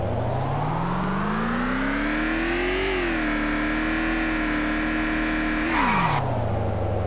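A car engine in the zombie survival game Vein drives steadily, revving up in pitch, holding a sustained drone, then dropping off as the throttle eases, loud and close with no talk.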